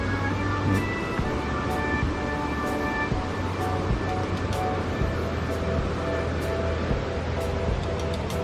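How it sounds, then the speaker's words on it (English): A continuous rush of water flowing out at a grist mill roars steadily nearby, a broad noisy wash with faint tonal hum underneath. "I love the sound of that water like that."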